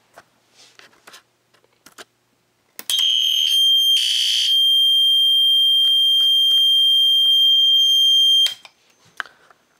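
Monaco Vulcan fire alarm horns sound together in a loud, steady electronic tone that lasts about six seconds, with faint clicks and room noise before and after.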